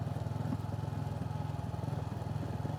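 A motorcycle engine drones with a rapid, steady pulsing rattle while riding on rough pavement in Gihosha, Bujumbura, Burundi, loud and continuous throughout.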